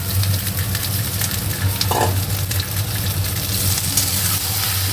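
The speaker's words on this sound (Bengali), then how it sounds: "এখানে আলু ভাজা বসিয়েছি আলুটা আগে একটু ভাজা ভাজা করে নিয়ে তারপর ভেন্ডিগুলো দিয়ে দিলাম" Potatoes and okra fry in a pan with a continuous close sizzle while a utensil scrapes and stirs at irregular moments, with a steady low hum underneath.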